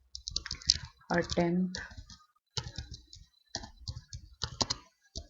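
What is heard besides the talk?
typing on a computer keyboard in MS Word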